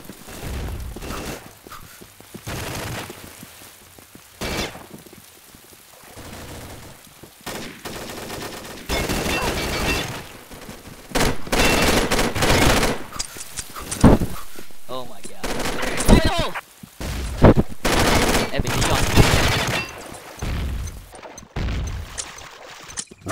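Gunfire crossfire in the Combat Arms online shooter during a clan war match, with dense rapid automatic bursts and single shots overlapping almost continuously, loud and close, under occasional player talk.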